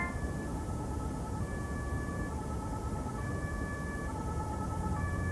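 An ambulance siren sounds continuously with pulsing tones cycling on and off, over a constant loud rumble of traffic and engine noise at a city intersection.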